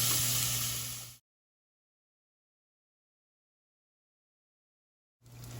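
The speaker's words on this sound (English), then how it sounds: "Add our bacon in. And we're gonna cook this, stir it up, cook it till it's nice and crispy." Bacon frying in a pan as it is stirred, a loud close crackling sizzle that cuts off abruptly into silence for several seconds before resuming.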